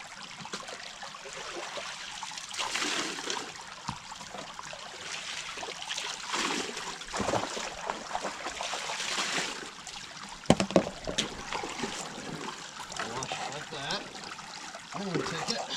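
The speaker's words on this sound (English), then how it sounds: "Kind of washing out the riffles down here now." Water washing through the riffles of a gold prospecting sluice in a creek, a soft continuous trickling and rushing with uneven surges and a few sharp knocks, while a voice talks at times.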